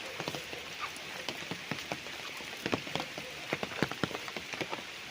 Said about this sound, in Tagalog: medyo maulan lang po kasi ngayon